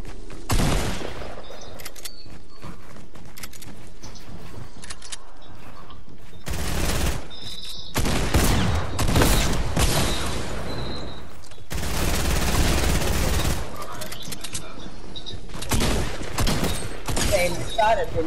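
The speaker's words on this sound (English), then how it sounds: "Okay, they gave me my SMG." Bursts of submachine gun fire in Call of Duty, several dense rapid volleys separated by quieter gaps, loud and close, with a player's voice talking over parts of the action.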